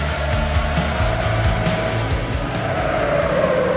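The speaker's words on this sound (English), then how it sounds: "we're gonna get inside and do a baseline dyno run for starters" A Toyota 79 Series truck makes a baseline run on a dyno, its engine droning loud and steady with a rising pitch as it climbs through the revs, with no talk over it.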